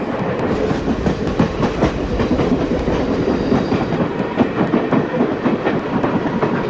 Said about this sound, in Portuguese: Viagem de comboio